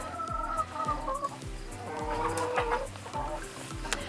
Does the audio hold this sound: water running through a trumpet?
no